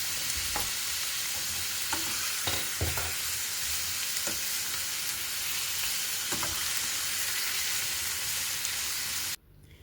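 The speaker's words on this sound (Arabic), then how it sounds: "ننزل بقى بالطماطم ونقلبهم مع بعض." Chopped tomatoes fry with meat in a pan, a constant loud sizzle broken by scraping stirs and spoon knocks, the sizzle cutting off abruptly at the very end.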